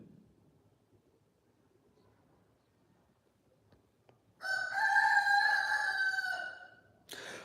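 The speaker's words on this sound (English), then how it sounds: "The roosters are roosting." A rooster crows once, loud and close, a long strained call after a few seconds of near silence, followed by the start of another cry.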